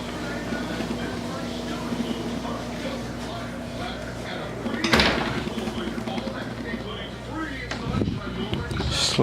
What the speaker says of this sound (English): Sliding barn doors that close like so